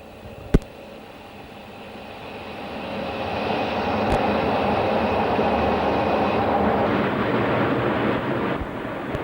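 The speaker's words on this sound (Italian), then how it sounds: "Il treno riduce la velocità" An ES 646 express train of the Italian state railways on the Udine–Trieste line slows and brakes, heard from inside. A sharp click comes first, then a rising broad rumble and hiss that holds steady, punctuated by brief knocks.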